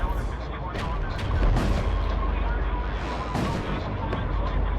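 Spaceship weapons fire in the Void War video game. Heavy booming blasts and crackling bursts roll over a constant low rumble, loud and dense throughout.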